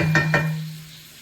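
Drumstick pods frying in a pan for a coconut-free gravy, two quick scraping stirs over a low steady sizzle that fades away, brief and close with no speech.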